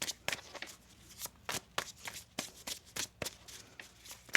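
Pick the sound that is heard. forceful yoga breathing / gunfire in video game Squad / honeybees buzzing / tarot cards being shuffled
tarot cards being shuffled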